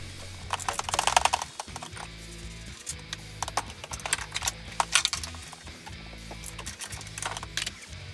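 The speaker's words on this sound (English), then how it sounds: "reaching inside the little compartment on the front of the Pilot just to loosen the top of the strut" Hand ratchet loosening the strut top mount bolts on a Honda Pilot, reached through a small compartment at the front, giving repeated quick clicking bursts, close and crisp, with brief pauses between strokes.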